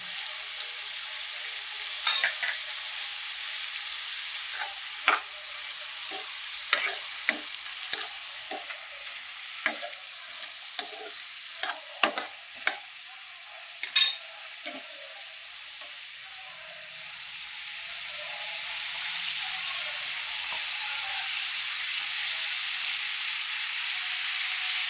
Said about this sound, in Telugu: ఇవి తొందరగా ఫ్రై అవుతాయి